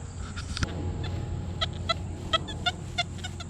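A metal detector over a target surrounded by iron beeps in short, choppy, irregular bursts instead of a smooth tone, over a low steady hum.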